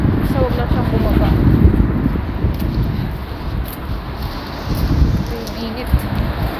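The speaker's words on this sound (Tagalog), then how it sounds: "Pero mahangin talaga ngayon." Steady outdoor wind noise buffeting a microphone in Singapore, a low rumbling roar with gusts rising and falling throughout.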